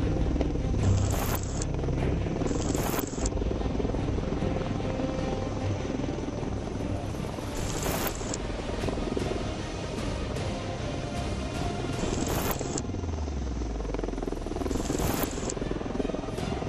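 A HAL Prachand light combat helicopter flies with a steady, loud rotor and engine roar that holds for the whole stretch, broken by a few sharp higher bursts.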